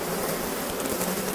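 Honey bees buzz around an opened hive during a check of a super colony for the queen or signs of swarming, a dense, continuous drone heard close up with no talk.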